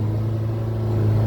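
A 2024 Kawasaki Ridge side-by-side with a four-cylinder engine revs high, a loud, steady, close engine drone with strong low harmonics holding through the brief moment, no talk over it.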